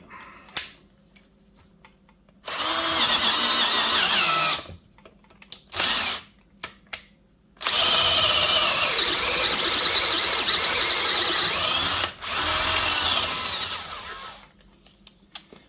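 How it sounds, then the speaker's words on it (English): A power drill whines loudly in several bursts, grinding and squealing as it bores through a hinge pin bushing on a Jeep FSJ Wagoneer, with short quiet pauses between runs. "you don't have to drill all the way through"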